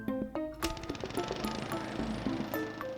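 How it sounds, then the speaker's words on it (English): A lawnmower in the video game Plants vs. Zombies Replanted sputters and rattles in a rapid mechanical burst, mixed with busy game sound effects and tones, moderately quiet. "Oh, why does that lawnmower sound so realistic, man?"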